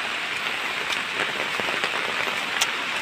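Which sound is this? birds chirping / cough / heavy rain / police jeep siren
heavy rain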